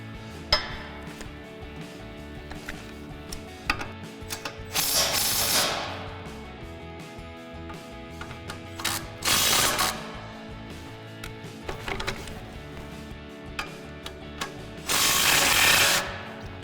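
Socket ratchet clicking as it undoes an 18mm front strut bolt on a 2005-2010 Mustang, with bursts of rapid pawl ratcheting separated by lighter clinks and handling noises, close and clear with no talking.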